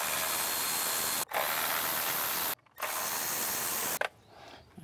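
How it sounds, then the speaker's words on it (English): A ratchet on a Hyundai or Kia engine removes the 10 mm bolts holding an engine cover, giving close, loud, rapid clicking in three bursts separated by short pauses, with a faint tail at the end. "first we're gonna remove this cover, which is held in by these 10 millimeter bolts"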